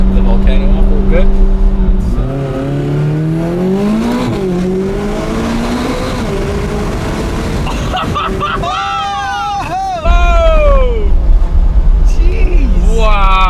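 A McLaren 570GT sports car drives up a volcano road, its engine loud and close with swelling revs and shifting pitch as it accelerates, while people talk over it.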